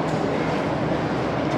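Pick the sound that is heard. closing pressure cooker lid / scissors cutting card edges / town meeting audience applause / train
train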